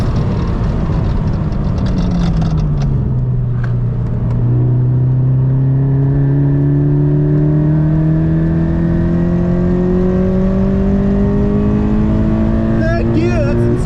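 An E85-fuelled track car accelerates hard through the gears, its engine note climbing steadily in loud, close sweeps with a shift partway through, while a person speaks excitedly over it.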